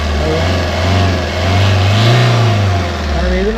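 A car engine idles steadily with a low, continuous rumble and a slight rise in revs midway, close by, with no talking.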